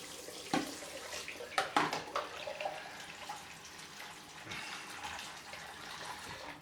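Tap water runs into a sink before a head shave with a Henson AL13 razor and Derby soap, a faint splashing flow broken by a few louder clatters and sloshes as things are handled near the basin.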